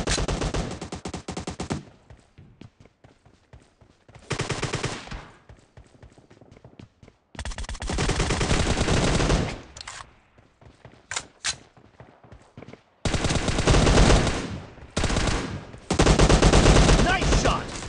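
Rapid automatic gunfire from a team deathmatch video game, bursting loudly in several long volleys separated by short pauses with scattered single shots and faint footsteps between.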